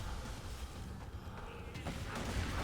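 The Creamer rocket launcher fires in Borderlands 2, giving a dense, rumbling blast of noise that fills the whole short stretch at a steady loudness.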